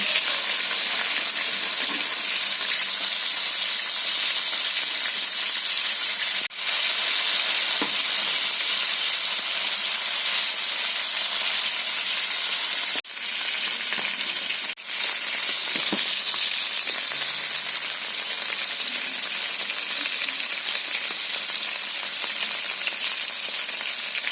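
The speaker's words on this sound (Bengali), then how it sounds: "মাছটা আমি উল্টে দিচ্ছি" Bhangor fish frying in oil in a pan, a loud, steady, bright sizzle that runs on throughout, broken by a few sharp clicks as the fish is turned.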